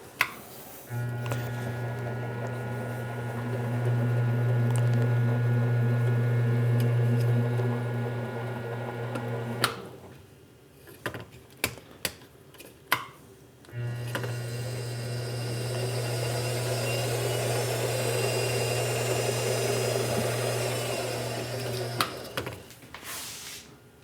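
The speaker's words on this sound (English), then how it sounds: "It's a spiral point tap, so the cutting should push through the hole ahead of the tap." A lathe slowly drives a spiral point tap through a hole in a metal workpiece, a steady motor hum with a low tone lasting several seconds, then a pause with a few clicks and knocks before the humming run resumes.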